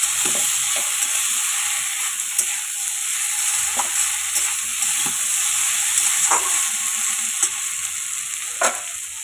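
Ginger-cumin paste with chilli frying in a pan, a loud continuous hiss of sizzling oil punctuated by intermittent scraping and tapping from stirring, close and steady throughout with no talking.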